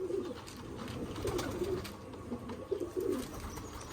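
Several pigeons coo in soft, throaty bursts, some overlapping, over a steady low background rumble; two pigeons perch on a rooftop pigeon perch.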